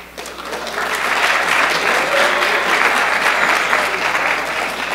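Audience at a lecture clapping together, a loud, steady burst of applause that swells quickly and holds evenly for several seconds.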